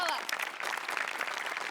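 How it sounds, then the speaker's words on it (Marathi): A brief burst of audience applause for a performer on a Marathi comedy stage show, dense clapping heard with voices over it. "तुझ्या प्रसंगावधानासाठी जोरदार टाळ्या"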